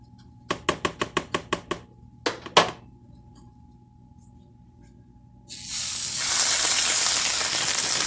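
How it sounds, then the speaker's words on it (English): Sauce poured over browned food in a pan on a stove, preceded by a quick series of sharp taps and knocks, then a loud, steady sizzle that bursts in and keeps hissing to the end. "Okay, now that these are a little bit brown, we're going to just add some of our sauce over the top."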